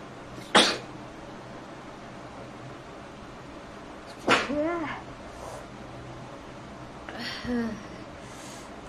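A person doing a sneezing challenge sneezes sharply three times with long pauses between, and short vocal sounds follow some of the sneezes.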